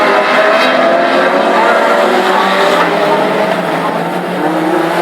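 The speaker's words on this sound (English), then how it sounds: "Dean Kitchen went out a big spin there." A classic hot rod race car spinning out on an oval short track at Hednesford, heard as a loud sustained roar of engines mixed with tire squeal, continuous and close throughout.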